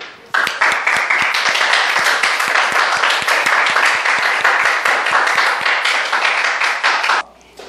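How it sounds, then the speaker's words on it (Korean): A small group in a high school math classroom claps steadily for about seven seconds, close and loud, with individual hand claps clearly audible, before stopping abruptly. "축하드립니다. 박수."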